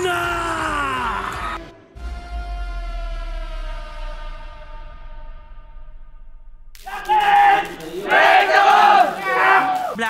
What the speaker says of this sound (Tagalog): Rinig na rinig ang sigawan.